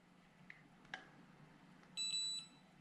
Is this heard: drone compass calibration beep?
yes